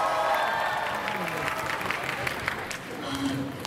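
A school entrance ceremony audience claps steadily at a moderate distance for a few seconds, with faint voices mixed into the applause.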